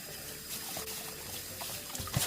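Running tap water trickles over a cleaned pollock being rinsed, a faint, steady flow broken by small splashes that grow louder toward the end.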